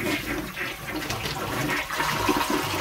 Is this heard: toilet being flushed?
yes